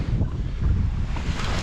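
Wind gusts blowing across a coastal lake in Oregon during bass casting, a loud low rumbling buffet against the microphone, steady and close with no talk.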